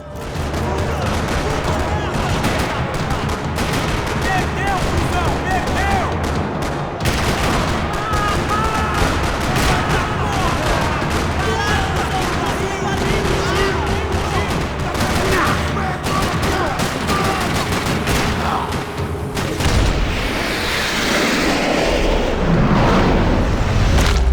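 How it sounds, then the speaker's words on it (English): Dense gunfire rattles through a parking lot in Max Payne 3, rapid bursts and volleys crackling continuously at close range over roughly twenty seconds, with game voices occasionally heard beneath. "Another parking lot rattling with gunfire."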